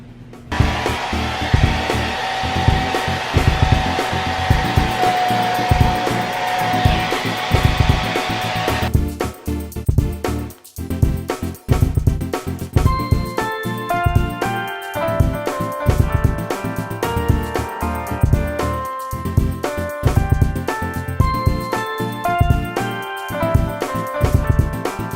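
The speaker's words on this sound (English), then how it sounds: "So now I think I'm just gonna get a blow dryer and dry it." A loud, steady blow dryer whirs continuously, drying paint on a board, with tonal hum and occasional changes in pitch as it is moved around.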